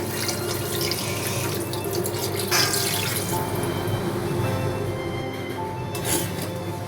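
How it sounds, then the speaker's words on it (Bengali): Water pours steadily into an egg and potato curry in a pan, a continuous close splashing, gushing sound with no talking. "ডিম আলু একসাথে ভালো করে কষানো হয়ে গেলে জল দিয়ে দিচ্ছি।"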